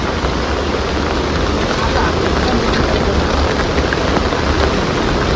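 Heavy rain pounds down over a flooded creek where boats overturned, a loud, dense roar of drops on water and surfaces, unbroken throughout, with voices faintly mixed in beneath the downpour.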